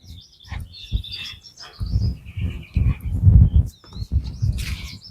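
Birds chirp and tweet around a garden and garage area, with bright, fairly close calls repeating over a low background rumble.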